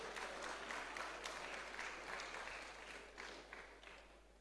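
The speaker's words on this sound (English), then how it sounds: "Please let's keep clapping." Sustained audience applause at a university valedictory programme for a zoology professor, a dense, steady patter of many hands that holds throughout and tapers slightly toward the end.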